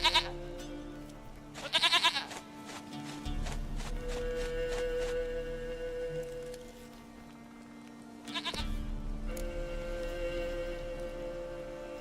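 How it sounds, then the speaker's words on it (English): Goat bleats repeatedly in Witcher 3, a few loud quavering calls near the start and another burst around the middle, over steady ambient game music and sound. "Goat of mine, dearest, sweetest goat."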